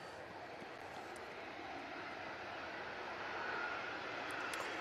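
At Manchester Airport, a TAP Portugal Embraer jet bound for Lisbon moves onto runway 23L, its engine hum faint and distant, a low, even wash that swells slightly toward the end.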